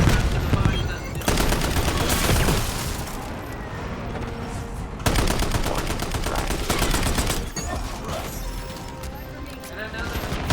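Gunfire in Call of Duty Black Ops 7 comes as loud, dense bursts of rapid automatic shots. The volleys run almost without a break, with short gaps between the long strings of fire.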